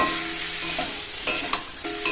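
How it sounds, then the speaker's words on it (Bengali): Potatoes and a fried egg are sautéed in a pan, a loud close sizzle broken by a few sharp spatula scrapes and taps. "আরও 30-40 সেকেন্ড মতো একটু কষিয়ে নেব ডিমটা দিয়ে"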